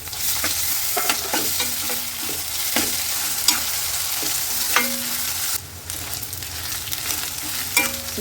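Crushed ginger frying in a pan sizzles steadily and close, with repeated scraping and clinking stirs of a spoon against the metal throughout.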